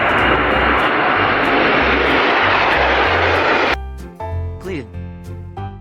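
A steady, loud roar like an airplane engine from a toy airplane plays for several seconds and then cuts off abruptly. It is followed by short pulsing electronic tones.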